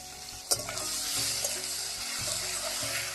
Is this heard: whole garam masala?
yes